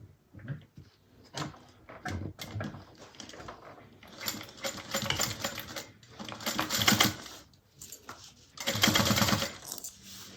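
A sewing machine runs a 1/4 inch seam while a fabric bag is being made, in several uneven bursts of stitching with pauses and handling clatter between them, close and moderately loud.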